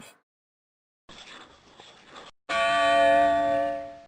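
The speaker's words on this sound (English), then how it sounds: "Church bell." A church bell in the video game Arthur's Teacher Trouble strikes once and rings out clearly with a bright sustained tone, following a short, faint clatter.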